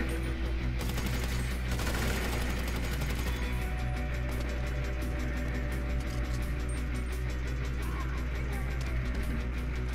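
Gunfire in GTA V Online, dense rapid automatic bursts over a steady loud engine-like drone, continuous throughout with the occasional voice.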